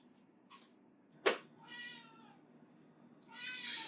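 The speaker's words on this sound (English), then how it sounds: "You're going to be meowing throughout my video. Please, quiet, cat." A cat meows several times nearby, with long drawn-out cries and a couple of shorter sharp calls in between, against a quiet room.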